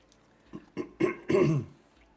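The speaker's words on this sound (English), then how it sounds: "kind of clearing my throat until they notice me" A person clears their throat several times, short rough bursts that grow longer and louder, with the last one a drawn-out rasp, close and alone.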